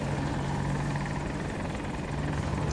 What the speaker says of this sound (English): helicopter is shooting me